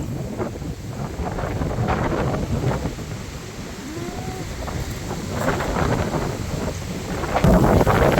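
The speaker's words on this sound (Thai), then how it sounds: "ลมคล้ายๆคือพายุลมเนี่ย" Strong stormy wind roars through a rural vegetable garden in Thailand, a continuous heavy rushing with gusty surges and rumbling microphone buffeting, loud and without talk.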